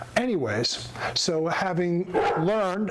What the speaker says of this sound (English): that's my dog, Zach.